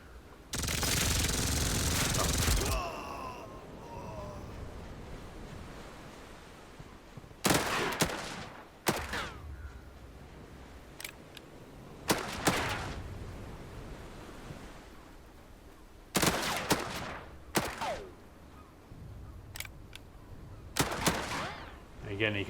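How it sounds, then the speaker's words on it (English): Gunfire pours into a bunker in the World War II strategy game Headquarters: WW2, heard as several bursts of sharp, loud machine-gun and rifle shots spread across the stretch, with long noisy roars between them and no voice. "shoot into the bunker"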